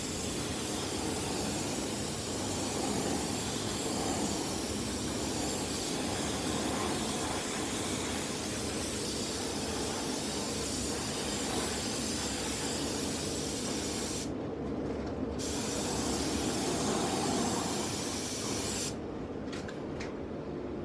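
A spray gun hisses steadily while applying a carbon-dip coating, continuous and close for most of the stretch, cutting out briefly twice near the end.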